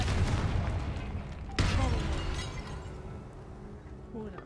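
A Confringo fire spell in Hogwarts Legacy bursts with a sharp crack and a booming blast that fades into a rumbling tail, under a loud game soundscape.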